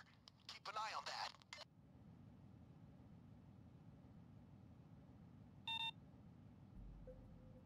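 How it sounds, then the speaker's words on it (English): A desk telephone in the Payday 2 bank heist video game rings once, a short electronic trill over a quiet hum of background noise. A brief burst of talk comes just before it. "Is anyone going to pick up the phone?"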